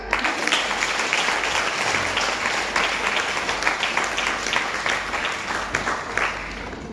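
Sustained applause from an audience at a network marketing meeting, steady dense clapping throughout with no voices over it.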